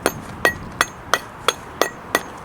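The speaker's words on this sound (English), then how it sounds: "Hammer and chisel." A steel hammer strikes a roughly 50-year-old chisel cutting stone at a canal lock bywash, giving seven sharp, evenly spaced metallic taps close by with no talk.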